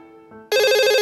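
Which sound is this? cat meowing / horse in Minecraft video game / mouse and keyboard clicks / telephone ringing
telephone ringing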